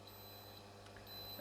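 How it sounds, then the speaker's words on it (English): Electronic alarm beep from an LAE LF28 refrigeration controller on a test bench, a thin steady high-pitched tone sounding continuously at low level alone. "However, this is just an alarm."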